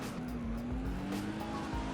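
A Nissan 400z drifting in CarX Street, a sustained engine drone with a long rising tire squeal sliding across the whole stretch, close and continuous.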